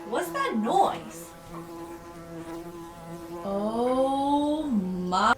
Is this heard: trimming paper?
no